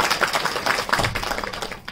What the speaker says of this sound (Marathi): त्यासाठी जोरदार टाळ्या वाजवा.